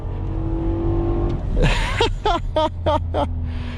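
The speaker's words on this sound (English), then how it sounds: "What a great sounding V8 engine in this thing." A 2022 Infiniti QX80's V8 engine revs hard through several quick upshifts, the pitch climbing and dropping in rhythmic bursts over steady road noise.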